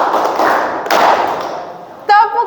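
A classroom group claps once in unison, a sharp, loud single clap cutting through the fading tail of earlier clapping, followed by a voice speaking.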